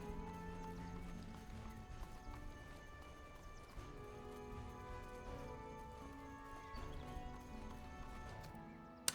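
Hungarian cavalry horses in a strategy video game give quiet, continuous hoof clip-clop with a faint whinny, set low under sustained background tones.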